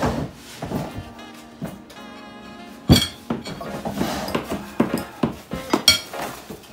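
Metal utensils clink and scrape against a bowl while someone stirs a 4x spicy noodle dish, giving irregular sharp taps and rattles close to the listener, with a few louder knocks and quieter scraping between them.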